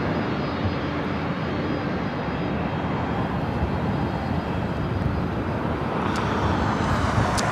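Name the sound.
Southwest Airlines Boeing 737 MAX 8 jet arriving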